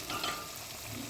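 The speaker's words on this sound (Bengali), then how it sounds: "বাকি মাছগুলো আমি একই রকমভাবে লাল লাল করে ভেজে" Fish pieces frying in hot oil for a Bengali fish curry, a soft, steady sizzle heard briefly and fairly quietly with no voices.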